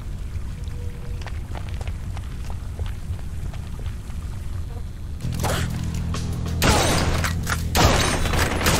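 Gunshots in the Blue Estate rail shooter start after a quiet stretch of faint ambience, then sharp shots ring out in quick succession, growing louder toward the end.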